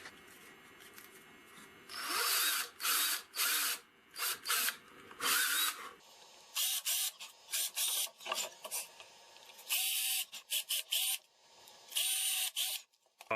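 Power drill driving three 3/8-inch brass screws into plywood for a mini table saw sled, heard as repeated short whirring bursts of the motor, close and loud, with brief pauses between runs and no talking.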